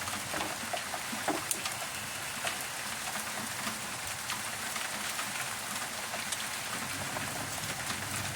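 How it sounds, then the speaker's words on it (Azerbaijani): Heavy rain pours down continuously, a dense hiss with scattered louder drops striking nearby surfaces. "Şimdi güclü yağış yağır."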